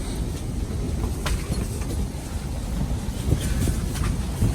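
Strong wind roars steadily and loudly during a snow squall with winds over 50 mph, a dense low rumble with occasional gusts and rattles against an ice-fishing shack, no voices present.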